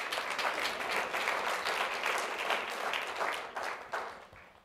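An audience at a National Press Club speech breaks into sustained clapping, a dense patter of many hands at moderate distance, holding steady before tapering off.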